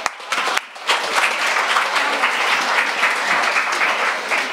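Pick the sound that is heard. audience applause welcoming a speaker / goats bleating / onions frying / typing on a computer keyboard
audience applause welcoming a speaker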